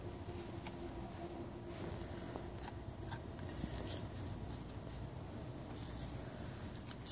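Scissors snip into a fetal pig during a lab dissection, with faint, irregular small cuts over a low room hum.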